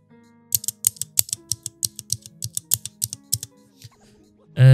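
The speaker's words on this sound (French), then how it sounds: "la barre espace les gars, elle fait un bruit qui est pas incroyable. C'est également pareil pour la touche pour supprimer du texte." Aukey KM-G12 budget mechanical RGB gaming keyboard, blue-switch style: a quick series of about twenty sharp, loud clacks from the spacebar and delete key in an uneven rhythm, then a brief louder thump at the end.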